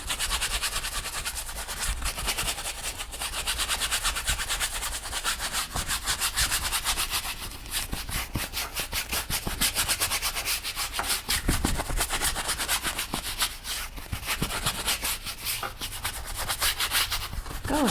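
A paintbrush scrubs crimson acrylic paint into a stretched canvas in quick back-and-forth strokes. The dry, scratchy brushing is close and continuous, with an even rhythm for nearly twenty seconds.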